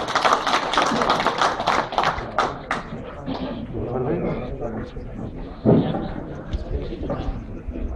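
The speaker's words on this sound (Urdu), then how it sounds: "آپ استقبال فرمائیں زوردار تالیوں سے اس نوجوان شاعر کا" An audience at a mushaira claps for a young poet, a dense burst of applause that starts loud and thins out into scattered claps, with a voice speaking over it.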